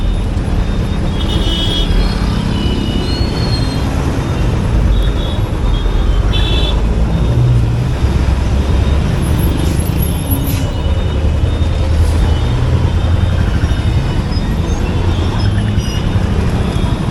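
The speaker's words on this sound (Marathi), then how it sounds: "या बस गेल्याशिवाय नाही जाता येणार आपल्याला" A bus rumbling past on a busy Goa road amid traffic, its loud, continuous low engine drone filling the scene with brief air-brake hisses and horn toots over steady roadway noise.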